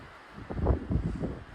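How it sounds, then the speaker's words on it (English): Strong wind on a mountain trail beside a pass gusts in low rumbling buffets against the microphone, rising and falling in two or three close, heavy surges. "The wind's blowing like a Dickens"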